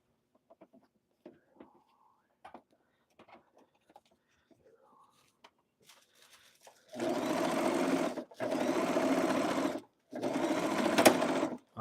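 A sewing machine stitches a blazer sleeve in three loud, sustained bursts separated by brief pauses, after a stretch of faint scattered rustles and quiet handling noises.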